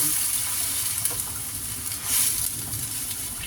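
Steady hiss of water running into a hot pan of bitter melon with glass noodles for soup, with a soft sizzle and a brief louder surge partway through.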